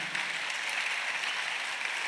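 Church congregation at a Sunday worship service clapping together, a steady, even patter of many hands heard at moderate distance, fairly soft and continuous.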